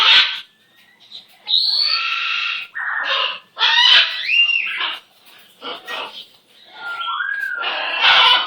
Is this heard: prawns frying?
no